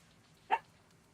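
An excited dog gives a single short, sharp yelp-like scream, fairly close, against a quiet background.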